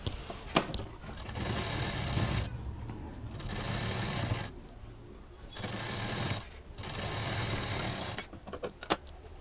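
A sewing machine stitching cotton star patchwork pieces runs in several steady, buzzing bursts of a couple of seconds each, separated by short pauses, with a few light clicks and handling taps around them.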